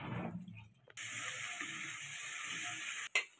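Sour yogurt and spice paste frying in a pan for an Afghani egg curry. A steady close sizzle hisses throughout, with a brief dip early on and a sharp scrape near the end.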